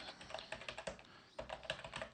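Quick, light tapping on a computer keyboard, an irregular run of soft clicks with a short pause midway before the keystrokes resume, faint and close.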